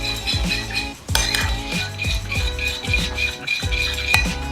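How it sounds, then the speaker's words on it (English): A lemon dressing for a Mediterranean fig salad is whisked briskly in a bowl, producing a fast, continuous metallic rattle and clinking with steady rhythmic strokes, close and loud. "You're going to give this a nice little whisk."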